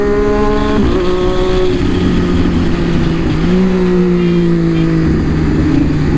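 A Triumph Daytona 675R sport bike's exhaust revving loudly up close, the engine note climbing, dropping, then sustained at high rpm with pitch shifts, strong and continuous.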